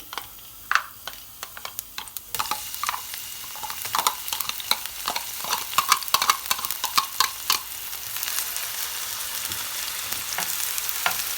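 Oil sizzles steadily as chopped onions sauté in a pan until softened, with frequent scraping and stirring clicks from a utensil, close and fairly loud.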